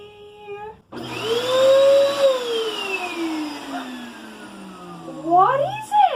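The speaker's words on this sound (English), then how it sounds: "It's a vacuum cleaner." A household vacuum cleaner whines close by, its pitch sliding and shifting as it runs, then revving briefly near the end, with no one talking over it.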